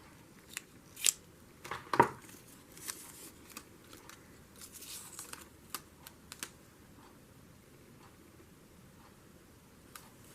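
Scissors snipping paper to size while assembling a Little Golden Book junk journal page, a few quick close cuts clustered early on, then sparse faint clicks and quiet.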